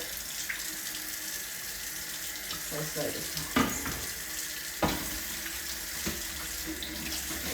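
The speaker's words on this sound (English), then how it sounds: "start the hot water coming through" Hot water streams steadily from a kitchen tap into a sink, a continuous close hiss with a few splashes and clinks, while a person speaks briefly.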